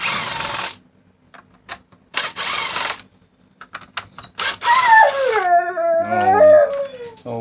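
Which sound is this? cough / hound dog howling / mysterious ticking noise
hound dog howling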